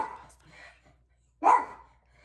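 An old, deaf dog barks a few times, with short yappy calls and one louder sharp bark near the end, heard close by in a quiet room between softer vocal sounds.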